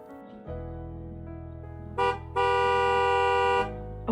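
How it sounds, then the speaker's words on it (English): A car horn honks in the game Cabernet: a brief toot, then a longer sustained blast of about a second, with no talking. "Oh, car honking?"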